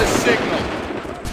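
Dense, continuous gunfire from the video game Assassin's Creed III, a loud sustained volley of overlapping shots with no gaps across the whole moment.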